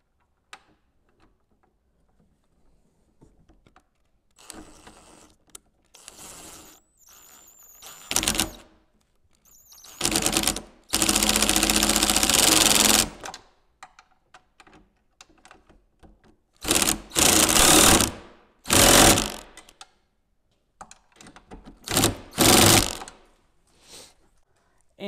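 Bolts are tightened on a Tesla Model S door handle, with sparse clicks and rattles followed by several loud bursts of a power tool running a few seconds each, separated by quiet gaps.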